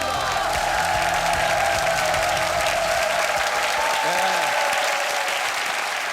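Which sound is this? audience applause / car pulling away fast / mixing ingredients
audience applause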